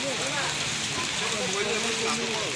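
Steady rain falling throughout, a dense continuous patter and hiss at moderate level, with faint voices talking underneath.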